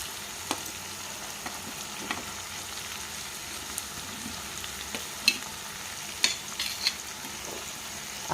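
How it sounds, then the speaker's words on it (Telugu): Prawns fry for a curry with raw mango, making a soft, steady sizzle in a pan. Occasional light clicks and taps of a utensil break through the hiss. "ఇలా చక్కగా పచ్చి వాసన ఎంత పోయిందాక వేయించేసుకొని"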